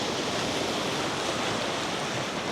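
Ocean waves break and wash along the shore in a loud, continuous roar of surf, close by and unbroken for the whole stretch, with wind noise blended in and no one talking.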